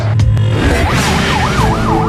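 A vehicle siren, the wangwang used on Philippine roads, wails in a rising and falling pattern close by and loud, with traffic noise underneath.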